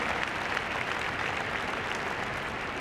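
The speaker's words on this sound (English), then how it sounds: "a big round of applause for the Tartan Terrors and their handlers" An indoor arena crowd at Crufts applauds the Tartan Terrors terrier display team and their handlers, a dense, even wash of clapping sustained throughout.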